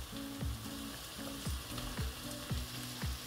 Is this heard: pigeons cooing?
no